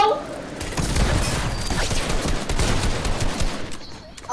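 Rapid bursts of gunfire ring out during an online video game firefight, a loud, dense volley of shots lasting several seconds before tapering off, with players talking faintly around it.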